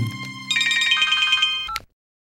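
A telephone rings in a Telugu-dubbed comedy film scene: an electronic ringtone plays a repeating melodic pattern of bright tones for under two seconds, then cuts off abruptly into silence, with no speech.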